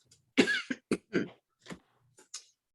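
A lingering cough that won't go away, several sharp, close bursts in quick succession with short gaps between them, clear and alone.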